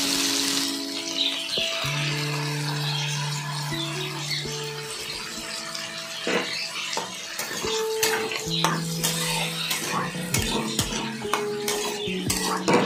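Spice paste sautéed with yam and potato in a pan for a Bengali curry, a low sizzle under repeated scraping and clinking of a metal spoon against the pan, plus occasional ringing utensil tones.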